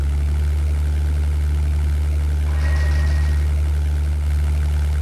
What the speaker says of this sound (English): It's the right engine with the problem, so let's switch it off.